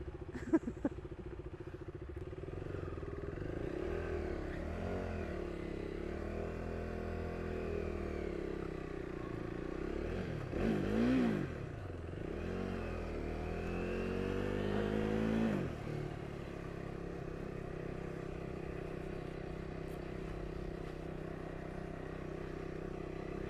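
A KTM Duke 390 motorcycle engine drones steadily while riding, with a couple of louder revving swells in pitch midway and constant road and wind noise throughout.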